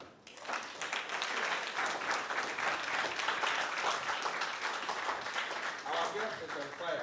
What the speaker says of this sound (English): Can we give ourselves an applause?